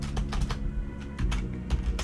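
Rapid computer keyboard typing in bursts of clicky keystrokes, close and fairly loud, with no voices over a low steady background hum.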